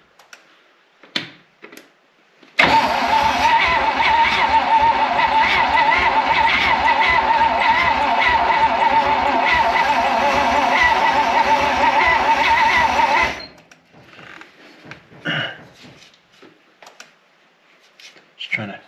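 An abandoned 1956 Oldsmobile 88 engine cranks hard for about ten seconds, a loud rhythmic churning with sputtering that sounds low on compression, then stops; brief knocks and handling noises come before and after.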